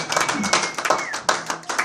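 Comedy club audience in Iowa City applauding a man in the crowd, close, dense clapping with uneven bursts, a faint voice mixed in over the short stretch.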